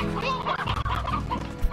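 Chickens in the video game Slime Rancher cluck busily and close up, a dense flock of overlapping clucks and squawks with no talking.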